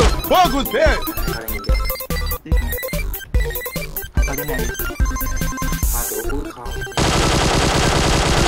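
Gunfire in the mobile game PUBG Mobile on the Sanhok map, with rapid bursts of shots mixed with game music and effects, loud and busy, ending in a steady noisy wash.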